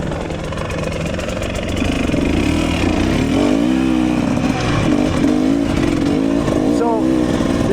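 A 2026 Husqvarna TE300 dirt bike engine runs steadily throughout with a continuous mid-pitched drone, rising and wavering slightly in the middle as if blipped off idle, with talk faintly mixed in.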